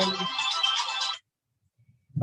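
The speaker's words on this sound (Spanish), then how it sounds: "Disculpen por el ruido estrepitoso del teléfono" A telephone ringtone plays loudly and close for about a second, a bright electronic melody that cuts off abruptly and leaves silence before a faint noise begins at the end.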